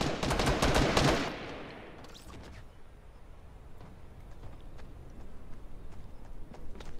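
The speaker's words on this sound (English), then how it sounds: "What the fuck was shooting at me?" Rapid burst of gunfire from a Fortnite squad match, loud and dense for about a second, then trailing off into faint scattered shots and game ambience.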